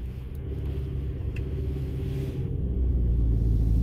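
A car driving after an axle seal repair, its engine a steady low rumble that swells slightly louder toward the end as it pulls in gear, with no talking.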